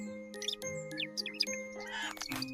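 A small bird chirps in a cartoon scene, giving several short, bright, high tweets over a soft musical background with chime-like tones.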